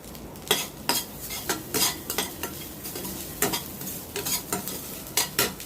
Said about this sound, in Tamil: கடலைப்பருப்பு, இஞ்சி வதங்கி எடுத்து தீய ஆரம்பிக்குது